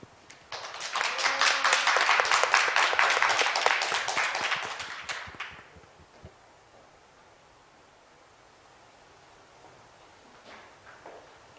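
Crowd applause and cheering at a live concert event, a dense roar of clapping that swells for several seconds, then fades out into quiet.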